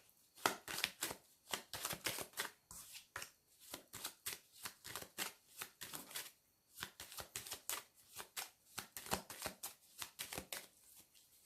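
Playing cards are shuffled and laid down one after another in quick, crisp snaps and slaps, a close, irregular rhythm of sharp card sounds with little else around.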